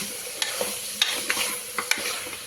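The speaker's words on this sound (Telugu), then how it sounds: "2 మీడియం సైజ్ టమాటాలు వేసి మంచిగా కలిపేసుకొని మూత పెట్టేసుకుందాం." Medium tomatoes frying in a pan of mutton curry with fenugreek, a soft continuous sizzle broken by several sharp scraping knocks of a spoon as it is stirred, close up and alone.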